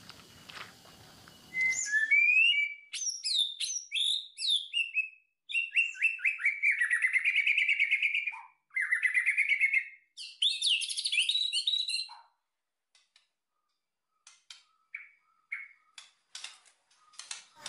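White-rumped shama birds sing at a breeding farm, with long runs of bright, varied whistles and chirps in close succession, then quieter scattered calls near the end.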